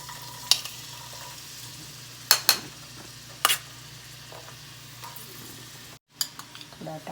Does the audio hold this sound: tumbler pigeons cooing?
no